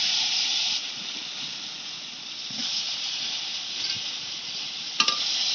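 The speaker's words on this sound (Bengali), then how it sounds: "এই তেলে আমি বেগুনগুলো ভেজে নেব।" Eggplant slices frying in hot oil left over from frying fish, a steady broadband sizzle running throughout with a few brief clicks near the end, no talking.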